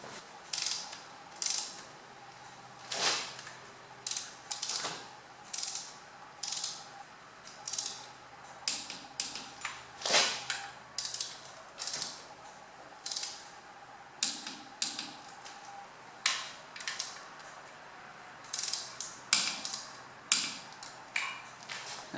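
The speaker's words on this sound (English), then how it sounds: "So I'll get the torque wrench, and we'll do it at 20 Newton meters." Torque wrench ratcheting as it tightens brake bolts on a Kubota B7001 tractor, a steady series of short, crisp mechanical clicks in quick bursts with brief pauses, close and alone without talk.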